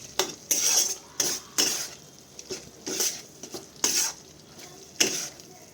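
Eggplant cooked in fish oil is stirred in a pan, with a utensil scraping and clanking in loud, regular strokes about once a second over a soft sizzle.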